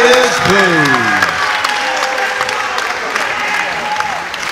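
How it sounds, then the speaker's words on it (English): Crowd applause and cheering for boxers at the close of a championship contest at a live boxing event, a steady broadband roar lasting throughout with overlapping voices from the crowd. "Huge round of applause to these warriors, please."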